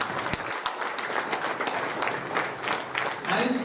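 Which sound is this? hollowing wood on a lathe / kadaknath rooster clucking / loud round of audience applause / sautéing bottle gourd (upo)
loud round of audience applause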